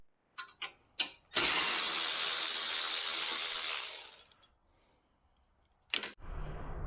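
A tool works Torx screws loose on a snowblower fuel tank bracket: a few sharp clicks, then a steady whirring drive lasting a few seconds, and a final brief click and whir, close and fairly quiet.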